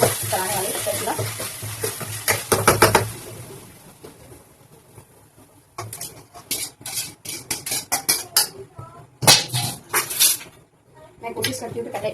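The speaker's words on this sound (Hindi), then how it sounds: "और इसके बाद फिर मैं अपनी चाउमीन मिक्स कर दूंगी" A spoon stirs boiled chow mein in a kadhai, giving bursts of scraping, clinking metal and faint sizzle that come in uneven clusters, with a voice talking in between.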